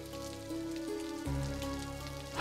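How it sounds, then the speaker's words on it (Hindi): Rain pours down in a steady, even wash of hiss at moderate level, with a sustained low musical drone running underneath and no talking. "बिन मौसम बरसात क्यों हो रही"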